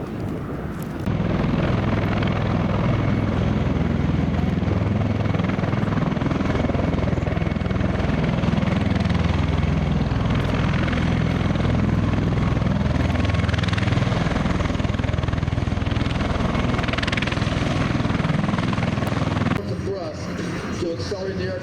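V-22 Osprey tiltrotor aircraft taking off at an air show, a loud continuous rotor and engine roar sustained throughout before cutting away abruptly near the end.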